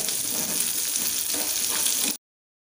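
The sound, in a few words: fish frying in oil in a pan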